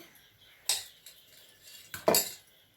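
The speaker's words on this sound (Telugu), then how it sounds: "కళాయి వేడెక్కిందండి ఆయిల్ రాసుకొని మనం ఈ మిశ్రమాన్ని ఇందులో అప్లై చేసుకుందామండి" A metal utensil clinks twice against a hot kadai as it is oiled and batter is spread for a coconut-jaggery palm rotti, with sharp, close knocks between quiet scraping.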